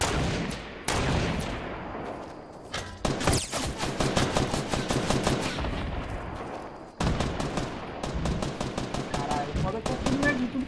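Rapid bursts of video game gunfire crack out loudly in dense volleys, with a brief pause near the start and a sharp break midway before the shooting resumes.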